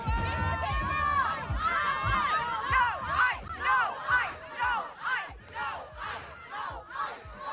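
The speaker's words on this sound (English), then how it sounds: "Yeah, there's a good crowd there." A large crowd of high school students, at least fifty, shout and cheer together in rhythmic, chant-like bursts, loud and somewhat distant, rising and falling in waves.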